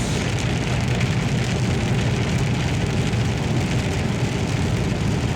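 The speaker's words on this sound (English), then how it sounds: "Wow, this rain's lasting a heck of a lot longer than I thought it would." Steady rain falls in a backwoods setting, making a dense, even hiss that holds at the same loudness throughout with no voices.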